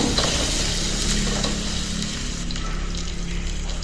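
Onions sauté in hot oil for a mutton kuzhambu and varuval. A steady, fairly loud sizzle with soft stirring runs throughout, with no voices.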